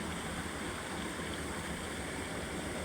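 Steady broadband rush of a clear river flowing, continuous and even throughout with no voices.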